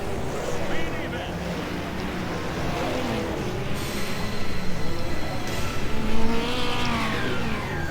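Classic hot rods race around the Wimbledon Stadium oval in a 30-lap world championship, a dense, steady engine roar with rising whines that swells louder toward the end, with wind buffeting the microphone.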